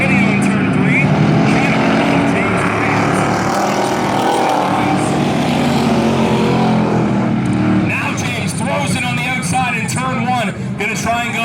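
Eight-cylinder race cars racing side by side in a heat at Valley Raceway, a loud continuous roar of V8 engines under an excited commentator's voice, with a passing car's pitch shifting near the end.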